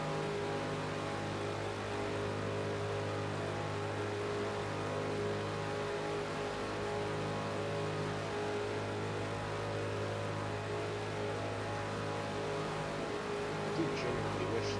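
A Porsche race car engine roaring steadily in a racing video game, a constant loud drone with little change in pitch throughout and no talking.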